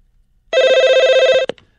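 A telephone bell rings once in a loud, close, trilling burst lasting about a second, followed by a brief click, in an otherwise quiet room.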